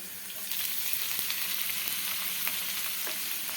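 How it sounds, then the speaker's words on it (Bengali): Chopped garlic and ginger fry in oil in a pan for a green chili pickle, producing a soft, steady sizzle with faint stirring scrapes, close and with no speech. "এবারে আদা রসুনটা ভালোভাবে একটু ভেজে নিচ্ছি"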